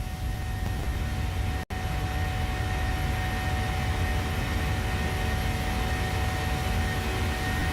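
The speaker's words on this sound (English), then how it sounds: "Taking off here on the south side of Albuquerque from Albuquerque Sunport" A Boeing 737-700 in Microsoft Flight Simulator 2020 climbs out after takeoff from Albuquerque Sunport. Its jet engines give a steady, loud, broadband roar with one brief dropout.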